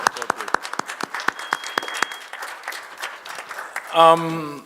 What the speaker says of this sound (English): And someone was applauding for him.